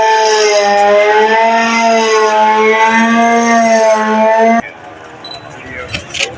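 A steady civil-defense style siren blares loud and continuous at a Pakistan Independence Day event at the Sahiwal Arts Council, then stops abruptly, leaving faint room noise.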